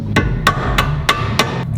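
Hammer blows during work on a Honda Civic Si FA5 Mugen rear suspension while fitting coilovers: five sharp metallic strikes at a steady, moderately quick rhythm, close and loud over a low background rumble.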